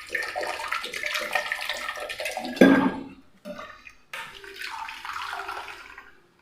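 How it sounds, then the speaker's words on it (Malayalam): Water poured into a bowl while making a cool lime drink: a splashing, trickling pour with a clink of kitchenware, stopping and starting again in short bursts, close by. "ഒരല്പം വെള്ളം കൂടെ ഒഴിക്കാം കേട്ടോ."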